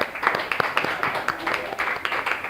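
A small group clapping hands in a classroom session, a loose, moderately quiet patter of individual claps with talk mixed in.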